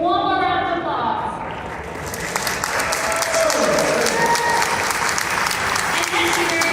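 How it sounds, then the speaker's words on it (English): Audience applause at a costume contest at the Midwest Gaming Classic gaming convention, a loud sustained clapping that swells in after a sustained tone and then fills a large hall steadily. "So give one more round of applause"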